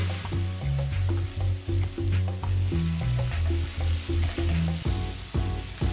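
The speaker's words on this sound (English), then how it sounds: "There we go, we get a little sizzle, which is exactly what you want" Prosciutto-wrapped lamb burgers sizzle and crackle in a hot pan, a busy frying hiss with pops, heard alongside a prominent pulsing musical background.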